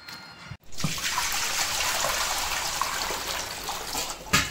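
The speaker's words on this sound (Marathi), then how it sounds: "तिला असं धुवून नळाखाली धुवून घेते मी." Grated potato rinsed under a running kitchen tap, a loud continuous rush of water splashing over the shreds after a brief pause at the start, ending with a short clunk.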